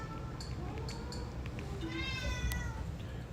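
Several cats meow repeatedly, with higher and lower cries overlapping against a steady background hum.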